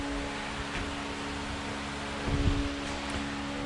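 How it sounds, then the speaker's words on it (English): A steady broadband whoosh from an electric fan running close by during coil plug replacement on a 2007 VW Rabbit, constant throughout with a faint low hum and a brief rustle. "I apologize for the fan noise"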